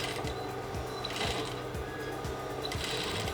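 A sewing machine runs steadily while stitching a dart in a white garment, its needle clattering in an even, rapid mechanical rhythm, close and alone with no talking.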